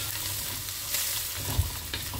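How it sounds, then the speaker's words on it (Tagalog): Garlic sautéing in a pan at home, a steady soft sizzle with faint stirring scrapes and a couple of brief clinks, no voices. "kaya gigisa ko na lang sa bawang"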